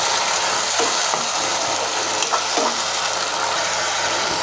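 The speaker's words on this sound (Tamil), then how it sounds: "இப்போ தக்காளியை வந்துட்டு இந்த மசாலா கூட நல்லா மிக்ஸ் பண்ணிக்கலாம்" Tomatoes being stirred into egg-curry masala in a pan, a continuous hiss of cooking with a few scraping spoon strokes against the pan, close and fairly loud.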